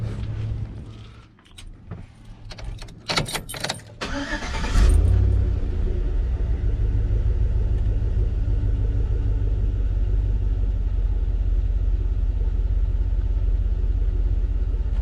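Keys jingle briefly, then a Chevrolet Silverado pickup's engine cranks and catches, settling into a steady, loud, low idle rumble that continues to the end.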